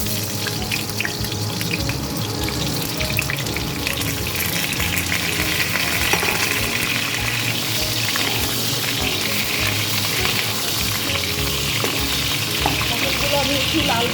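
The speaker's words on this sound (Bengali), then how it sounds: "তেলটা আমার গরম হয়ে গেছে। এবার পটলগুলো আমি ভেজে নেব।" Pointed gourd (potol) pieces fry in hot oil for a Bengali potol chingri dish, giving a steady, loud, dense sizzle and crackle that runs unbroken throughout with faint kitchen clatter underneath.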